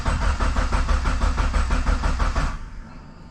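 A DSM car engine, just after a Walbro 525 fuel pump swap, cranks with a rapid rhythmic starter churn for about two and a half seconds and then stops, close and loud with no voices.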